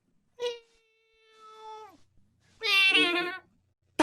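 A cat meows close by: a short mew, then a long drawn-out tonal cry, then a harsher, louder wailing meow, with silence between the calls and no talking.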